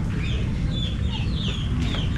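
Several chickens cluck and chirp close by in short, scattered calls over a constant low background rumble.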